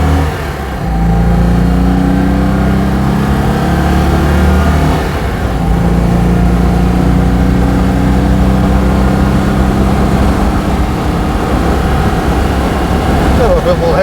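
A Citroen 2CV with a flat twin engine pulls away, its loud, close engine droning steadily and rising through the gears with a brief dip as it shifts, heard from inside the car.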